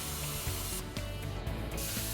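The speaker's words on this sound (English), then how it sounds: "Pulling or dragging the torch along the cut is more effective than pushing." A Hypertherm Powermax SYNC plasma torch dragged along a metal plate, giving a steady close hiss with faint crackle throughout, no voices.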